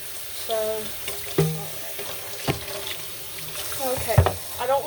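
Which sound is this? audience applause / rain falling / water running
water running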